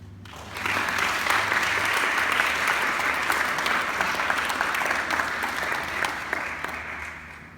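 A room full of people applauds Deacon Holmes at a Young Catholic Professionals faith talk, a loud, sustained wash of clapping that begins abruptly after a brief pause and holds evenly to the end.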